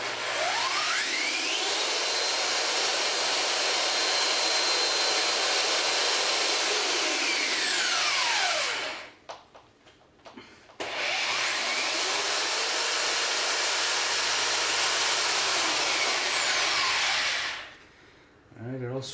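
Electric motor from a 1981 Sony KP-5040 Videoscope 50-inch front projection TV spinning steadily with a loud whir in two long runs, each rising and falling in pitch, separated by a brief stop.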